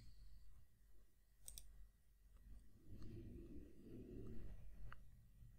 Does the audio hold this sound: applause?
no